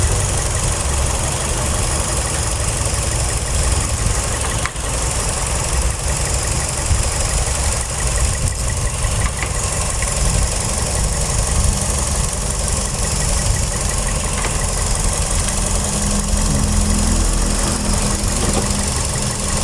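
A car engine runs at idle with the engine warm during a routine service, a loud, steady, close mechanical hum and rattle that stays constant throughout with no talking.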